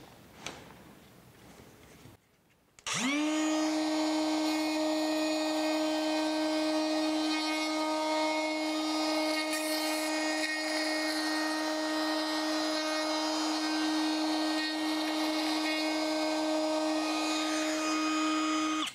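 An X-Carve CNC router trims the edge of a wooden serving tray: after a short stretch of quieter noise, the spindle's loud, steady, high-pitched whine starts abruptly and holds unbroken to the end.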